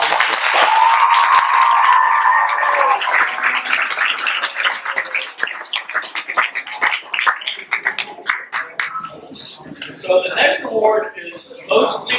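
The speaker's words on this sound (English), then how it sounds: "One more round of applause" Round of applause at a marching band awards banquet, many hands clapping in a fairly loud, dense patter that thins out toward the end while people talk and cheer over it.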